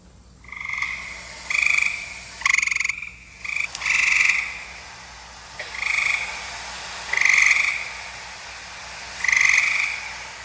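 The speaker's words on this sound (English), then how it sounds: "So that long trilling call, that is the gray tree frog" A gray tree frog gives repeated long trilling calls in bursts of about a second, separated by short pauses, loud and close against a quiet background.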